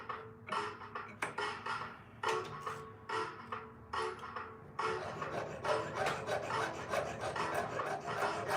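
Jeweler's piercing saw cutting silver, rapid rhythmic rasping strokes in short bursts, then a steadier run of quick back-and-forth cuts, close and fairly quiet with no talk.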